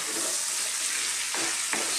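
Curry spice powders frying with beef in a pan, a steady loud sizzle that hisses without a break, and a couple of soft scraping stirs near the end, no voices.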